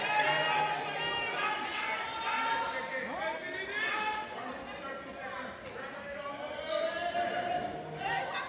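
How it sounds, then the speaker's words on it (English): Basketball arena crowd at a women's championship game murmuring and calling out in complaint about the clock, a diffuse crowd bed under a commentator's steady talk, with occasional squeaks and thuds from the court. "the crowd complaining about the time"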